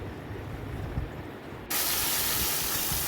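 Sudden loud, steady sizzling hiss as onions hit hot oil already holding bay leaves, cardamom, cinnamon and cloves, continuing unbroken after a quieter lead-in.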